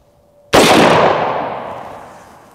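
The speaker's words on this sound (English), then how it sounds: "This is a .458 SOCOM, one of the biggest, scariest rounds out there. It's not really meant to penetrate, but it's just fun to shoot," A single loud .458 SOCOM rifle shot striking an AR500 steel body armor plate: a sharp, close crack with a metallic impact, decaying over about two seconds with no talk.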